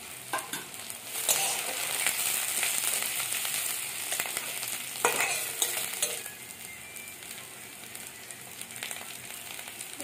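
Garlic and onions fry together in a pan with a steady, dense sizzle, broken by a few louder stirring scrapes early on and around the middle; no voices.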